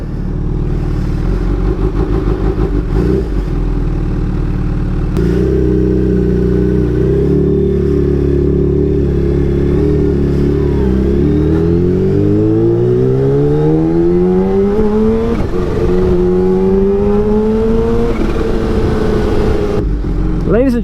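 A Kawasaki Ninja H2 on a test ride roars loudly close-up, holding a steady engine drone before climbing through a long rising rev as the bike accelerates, with wind buffeting throughout.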